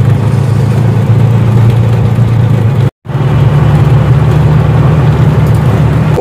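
A car driving along at a steady pace, its engine a loud, continuous low drone with road rumble that drops out for an instant midway and then resumes.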